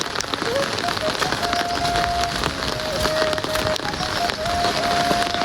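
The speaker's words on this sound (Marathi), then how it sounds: "हा जास्त पाऊस चालू झाला आता." Heavy rain pours steadily across a village road near a bridge, a dense, continuous wash of drops drumming on surfaces from start to finish, with a faint thin tone running through it.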